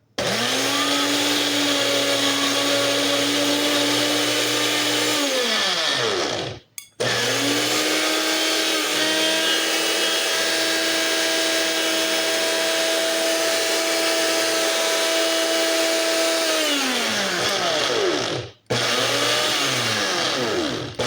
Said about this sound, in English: A blender can be one of the most frustrating things